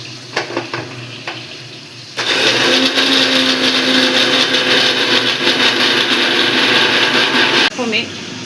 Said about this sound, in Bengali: দিয়ে এটা একটু মিক্সারে দিয়ে নেব